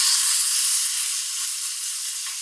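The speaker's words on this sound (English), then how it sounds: "we're going to look for a sizzle, not a scream, but just a sizzle sizzle." Chicken breast sizzles in a hot pan, a steady, close hiss that holds for the whole moment and eases off a little toward the end, with no talking.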